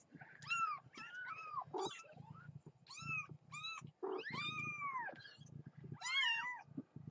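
Kittens meow repeatedly up close, giving about a dozen high, plaintive cries in quick bursts with short gaps between them and no talk over them.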